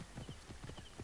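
Horse hooves clip-clop in the video game Assassin's Creed Origins in a quick, steady rhythm against a hissing background, faint and continuous for about a second.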